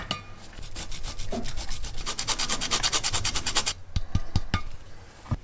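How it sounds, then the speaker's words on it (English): A block of cheese is grated for cacio e pepe, giving a run of quick rhythmic rasping strokes that stop abruptly. A few light clinks and taps follow at close range. "and to grate some of our cheese"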